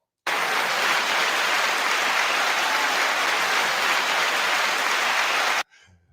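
Sustained, dense applause from a crowd, loud and even for about five seconds, then stopping abruptly into near silence.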